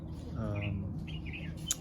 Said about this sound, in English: The birds are chirping, as you can hear in the background.